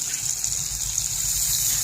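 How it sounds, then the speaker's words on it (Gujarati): A steady gush of water pours continuously into a pot of garlic curry gravy for a couple of seconds, fairly loud and close, with no talking. "હવે એમાં આપણે પાણી ઉમેરી દઈશું"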